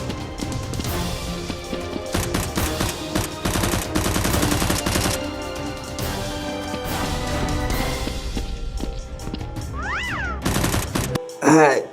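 Toy Nerf guns fire in a frantic indoor Nerf war at a brick factory, with rapid clattering bursts and shots overlapping loud, excited shouting, then a sharp rising electronic whine at the end.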